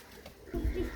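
A Teddy pigeon gives a brief, low coo close by, a single soft throaty call with no talking over it.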